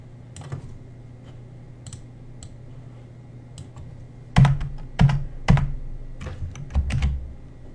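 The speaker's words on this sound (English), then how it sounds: "you simply hit backspace a few times" Backspace keys on a computer keyboard are tapped: a few faint scattered clicks, then three sharp close presses in a row followed by a short cluster of lighter taps, with no speech.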